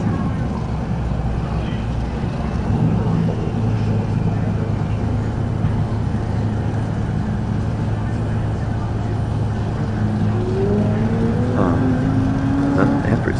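Race cars set up on the starting grid at Buttonwillow for the GTA Finals, heard as a steady mid-distance engine drone with a few rising revs toward the end over constant background noise.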